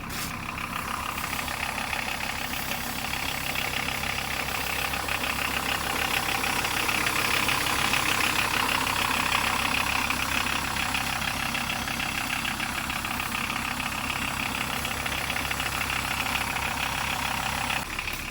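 Car engine droning steadily while driving, the vehicle loaded with about a tonne of buckwheat in twenty sacks; a constant mid-pitched rumble with road noise throughout, no talking.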